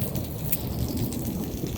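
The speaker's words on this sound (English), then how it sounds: "spring storm in southern Illinois" Steady heavy rain from a spring storm in southern Illinois pours down continuously, a dense hiss of drops striking surfaces close by, with no voices.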